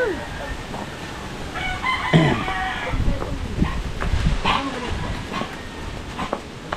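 A rooster crows and chickens cluck nearby, with a dog and people talking in the background of an outdoor yard.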